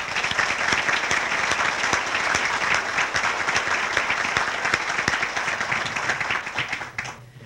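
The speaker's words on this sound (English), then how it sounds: "So I want to give you a round of applause." Loud, dense applause from an audience in a room at a contract-signing event, many hands clapping steadily and close before fading out at the end.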